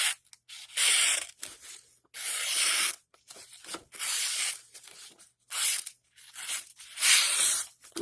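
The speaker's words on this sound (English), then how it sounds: "Let's do some cut tests here and see how this cuts." A Sanrenmu 7065 pocket knife slices through material in a cut test, giving several rough, rasping tearing strokes of about half a second to a second each, separated by brief pauses, close and fairly loud.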